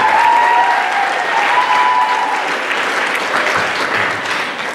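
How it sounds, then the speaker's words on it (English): Audience round of applause at an awards ceremony, a full, continuous wash of clapping from a sizeable crowd that holds steady and tapers slightly toward the end, with no talking over it. "But big round of applause to Jess."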